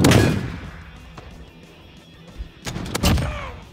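Video game gunshots crack loudly, one sharp blast at the start and a couple more near the end, with a quieter low rumble between them.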